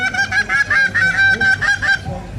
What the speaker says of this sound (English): The old ghost riders themselves, the goose.